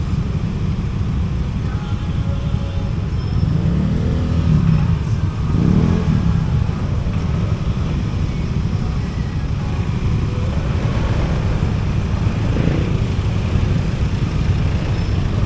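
Busy street traffic near the firecracker stalls in Binakayan, Kawit, Cavite, with cars and motorcycles passing and revving in a continuous rumbling wash, engines swelling as vehicles go by.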